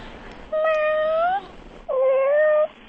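A person imitates a crying kitten with two drawn-out, wavering meows, each about a second long, loud and close with no other voices.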